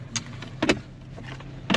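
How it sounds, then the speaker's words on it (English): A centre armrest in a 2025 Range Rover Velar splits open with three short clicks and clunks of plastic latches, close by over a steady low cabin hum. "what I do like is you can split your armrest like so"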